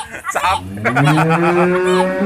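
A cow moos once, long and loud at close range, rising into a drawn-out bellow that carries over a short stretch of voices and outdoor bustle at the start.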